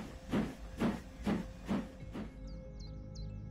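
Rhythmic hissing puffs from a steam engine at rest near a railway shed at night, four evenly spaced loud chuffs followed by a quieter steady hiss with faint squeaky tones.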